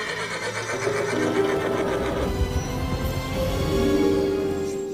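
A horse gives a long, loud whinny with wavering pitch, heard close and alone, with no voices over it.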